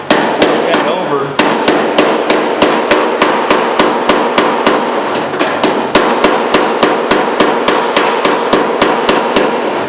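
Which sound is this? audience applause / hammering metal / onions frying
hammering metal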